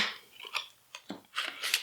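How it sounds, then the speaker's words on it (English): Stampin' Up label punch cutting through paper, several short sharp crunching clicks spaced irregularly, close and fairly loud with no talking. "we're going to go ahead and punch out our sentiment"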